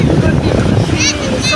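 Strong sea wind buffets the microphone at a beach while waves roll in beneath it, a loud steady rush with voices talking over it.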